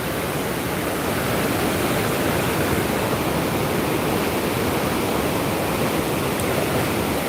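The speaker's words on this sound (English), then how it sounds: "Nothing in the path of this river would have been safe." Hope River in Gordon Town rushing after Hurricane Melissa, a loud, constant roar of churning water close by, steady and unbroken throughout with no voices.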